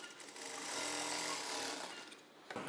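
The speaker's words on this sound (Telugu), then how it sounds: "ఇప్పుడు మనం షోల్డర్ జాయింట్కి డబుల్ స్టిచ్ వేసుకోవాలి" A sewing machine runs a double stitch along a blouse shoulder joint, a steady buzzing whir held at an even loud level for over two seconds before easing off and stopping near the end.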